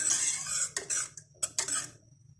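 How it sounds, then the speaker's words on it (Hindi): A whisk stirs potatoes into a creamy potato soup, giving a few short scraping, clinking bursts against the pot, close and moderately loud with brief pauses between strokes. "पोटैटो शामिल करने के बाद विस्क के साथ आप इसको मिक्स करें"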